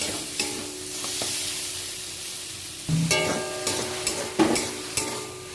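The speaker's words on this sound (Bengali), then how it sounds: "সর্ষে এমনিতে বেশি কষাতে হয় না, কিন্তু এতে রসুনটা দেওয়া আছে বলে একটু কষিয়ে নিতে হবে" A mustard and garlic masala sautés in a pan for a green tomato chutney, a soft sizzle running beneath intermittent scraping strokes and clinks of a spoon stirring it, close by.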